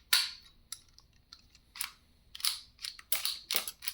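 Sharp mechanical clacks and snaps come in irregular bursts as an FN PS90-style rifle is cycled and spent shells drop out the bottom, close and crisp with quiet gaps between actions.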